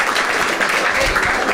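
Audience applause at a Marathi stand-up comedy crowd-work show: dense, steady clapping from a room full of people, loud and continuous through the whole moment.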